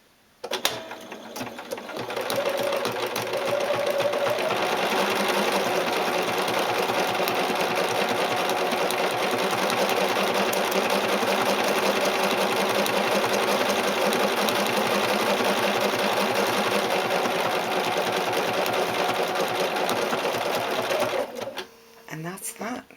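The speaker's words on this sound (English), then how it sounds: "And down we go. And we just start stitching." Sewing machine stitching fabric backed with interfacing while making a face mask, running as a close, continuous rapid needle clatter for about twenty seconds after a few starting clicks, then stopping.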